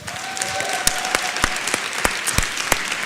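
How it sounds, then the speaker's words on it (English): Audience applause at a Warsaw talk event, steady close clapping with distinct individual claps for about three seconds, no voices over it. "I would actually like to have another round of applause for each of them"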